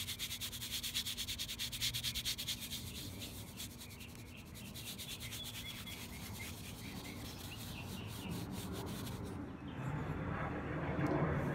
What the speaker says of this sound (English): just really rub it in so that it's